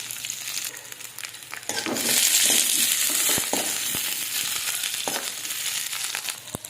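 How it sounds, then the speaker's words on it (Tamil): Onions and curry leaves sauté in oil with mustard seeds, a moderate sizzle that swells louder after a couple of seconds, with scattered clicks and scrapes of stirring. "கருவேப்பிலை, பெரிய வெங்காயம் ஒரு மீடியம் சைஸ் பெரிய வெங்காயம். இது நல்லா வதங்கட்டும்"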